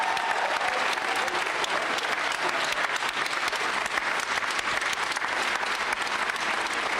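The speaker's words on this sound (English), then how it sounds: "Please keep that applause going for our mayor, Michael B. Hancock." Sustained audience applause at a Denver memorial service for George Floyd, honoring the mayor; dense, even crowd clapping with sharp individual claps throughout, no speech over it.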